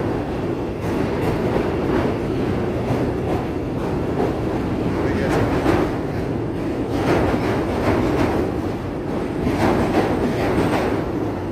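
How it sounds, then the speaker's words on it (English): Chicago L Green Line train rumbling steadily past on elevated track toward Cottage Grove, a continuous loud roll with faint rhythmic clatter heard from the street below. "Sounds like the train's going to come by here."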